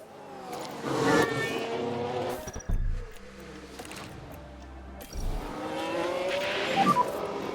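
F1 Manager 22 race car spinning out during a race, with engine roars rising and falling, a sharp low burst midway and tire scrabbling, loud and fairly close, with no talk.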